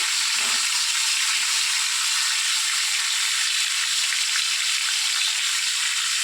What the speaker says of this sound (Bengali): ওখানে মাছ ভাজা বসিয়েছি, মাছটা ভাজা হোক